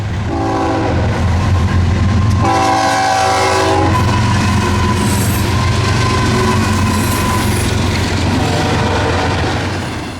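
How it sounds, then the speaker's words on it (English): A freight train rumbles past close by through a quiet town with a steady roar, its horn blaring in two long blasts near the start before the rolling rail noise carries on. "train 218 was moving north through the quiet town."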